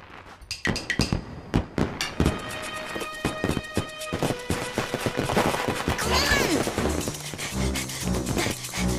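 Fireworks going off in a cartoon, a rapid string of sharp cracks and bangs that then gives way to a denser rumbling clatter, with a voice briefly heard.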